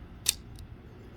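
An OTF knife blade cycles during cleaning, giving two sharp, close metallic clicks about a third of a second apart, the first louder than the second, over a quiet background.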